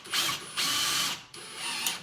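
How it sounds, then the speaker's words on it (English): A power drill drives a screw through drywall into the wood framing behind it, sounding in two or three whirring bursts with short pauses between them, close and clear. "so I'm just going to run a screw in."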